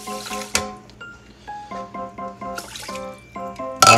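Two cups of water are poured into an old rice cooker, giving a run of close, bright plinks and bubbly gurgles. A sharper splash comes at the end, and nobody speaks.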